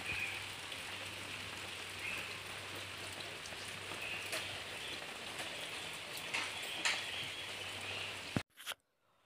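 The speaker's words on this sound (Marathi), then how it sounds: "आणि आता पण पाऊस थोडाफार चालू आहे" Steady rain falls over a mango orchard after a heavy night of rain, a continuous even hiss with occasional sharper drop taps, moderately close, ending abruptly near the end.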